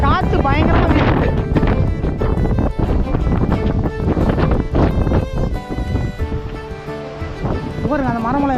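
Strong wind gusting across an open hilltop during the windy month of Aadi, a loud continuous rushing roar buffeting the microphone, with a person talking over it throughout.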